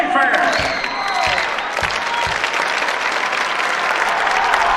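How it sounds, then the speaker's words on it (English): A loud crowd at a boys' high school state wrestling championship final roars and claps in a dense, sustained wash, with a few thumps early on and commentators talking over the noise. "With the modern day crowd in the mix. Yeah, they're loud."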